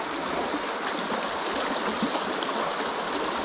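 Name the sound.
creek water flowing against a fallen tree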